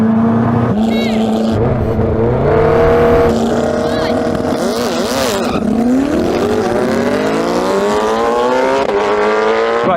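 A Koenigsegg Jesko and a tuned Suzuki Hayabusa launch in a drag race, engines screaming loud and close as their revs climb in rising gear-change sweeps, with excited shouting mixed in.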